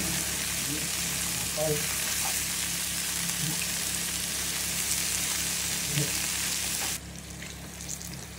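Chopped banana heart sizzles and fries in a pan for ginataang puso ng saging, giving a steady close crackling hiss with a few soft utensil knocks. The hiss drops noticeably toward the end, and no voice is heard.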